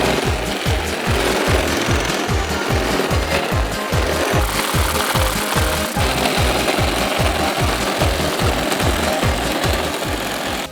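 A STIHL brush cutter trimming grass along a curb beside a road, its small two-stroke engine droning loud and close with a fast, regular pulsing chatter that holds steady throughout.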